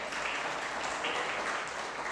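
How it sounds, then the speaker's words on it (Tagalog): Applause from a church congregation praising God, a steady, even patter of many hands filling the room at moderate volume, with no voices over it. "Lakasan natin palakpak sa Panginoon"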